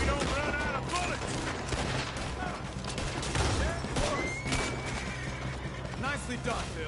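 A gunfight in the video game Red Dead Redemption 2 brings rapid, repeated gunshots in dense volleys mixed with game music and effects, while voices talk over the shooting.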